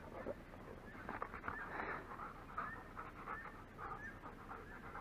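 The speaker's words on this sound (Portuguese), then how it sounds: "Rapaz, ainda bem que o cachorro é manso" A calm dog pants rapidly and steadily at close range, with quick rhythmic breaths and faint whimpers by a river, set against a quiet outdoor background.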